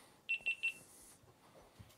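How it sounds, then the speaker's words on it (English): A GoPro action camera gives three quick, evenly spaced high electronic beeps, close and clear against a quiet background with faint room noise. "you can hear the beeps of the GoPro"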